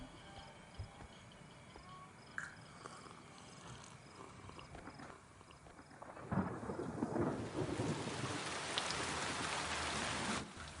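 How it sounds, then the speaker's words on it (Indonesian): Rain with thunder: faint ambience and a few small knocks at first, then a dense rush of rain swells in and holds steady, with a low rumbling undertone beneath it and no speech. "Hujan?"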